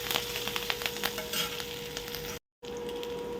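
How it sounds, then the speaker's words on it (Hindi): Garlic and chillies frying in hot oil in a pan with cumin, a close, crackling sizzle with sharp pops and stirring scrapes, cut by a brief gap of silence before the sizzle resumes. "पहले लहसुन मिर्चा को पहले हम लाल से भून ले रहे हैं।"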